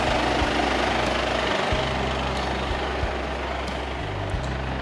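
A heavy truck engine drones steadily while driving on the road, a loud, constant low rumble with slight shifts in pitch and no voices.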